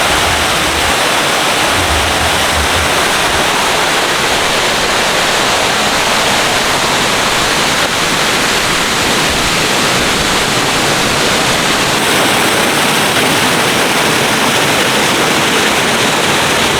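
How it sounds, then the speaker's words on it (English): A steady, loud rush of a jungle waterfall on a Thai island roars without a break, a dense hiss that fills the whole stretch with no voices. "about to go and see a waterfall"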